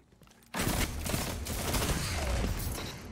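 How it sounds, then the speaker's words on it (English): Shotgun fire in a Destiny 2 Crucible match breaks out suddenly after a quiet moment into a loud, dense, sustained barrage of gunfire that continues to the end. "Someone in the Crucible is using a shotgun."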